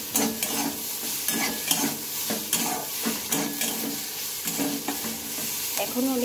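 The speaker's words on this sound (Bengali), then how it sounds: "এইভাবে একটু নেড়ে চেড়ে নিতে হবে, একটু ভালোভাবে একটু ভেজে নিতে হবে।" Pointed gourd peels fry in a pan as a spatula turns them, making a continuous sizzle with frequent scraping strokes and soft knocks in an uneven rhythm, close up, with no talking.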